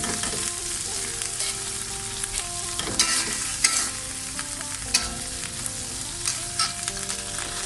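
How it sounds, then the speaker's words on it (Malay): Bubok masin being stirred into sautéed sambal ingredients in a hot pan, a steady close sizzle and fry with scraping spatula strokes and occasional sharper clinks, no voices. "Dan aku kacaukan bersama dengan bahan tumisan tadi sehingga dia rata."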